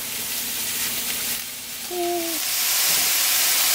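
Chunks of portobello mushroom sizzle and hiss steadily in a hot pan, a close, continuous frying crackle with a brief tonal clink partway through and no talking.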